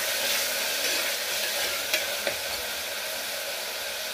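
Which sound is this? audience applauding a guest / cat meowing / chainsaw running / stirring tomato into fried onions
stirring tomato into fried onions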